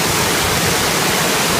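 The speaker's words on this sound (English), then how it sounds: "So here you can see the discharge pipe. That's a 12-inch pipe, and it's full of water." Water gushes from a full 12-inch pond discharge pipe, shooting out several feet during heavy-rain overflow; a steady, loud, broadband roar of rushing water fills the short stretch without any pause.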